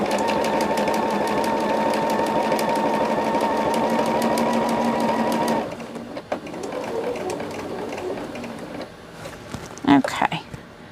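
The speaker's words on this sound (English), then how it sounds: "I probably need to stop stitching right about here." A sewing machine stitches cotton fabric in a fast, steady mechanical hum for several seconds, then stops. Quieter handling clicks and a few short stitching bursts follow, with someone talking over parts of it.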